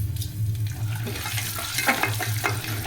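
Tempering spices with dried red chillies frying in hot oil for pulihora give a close, steady crackling sizzle over a low hum, with a few brighter pops and stir sounds.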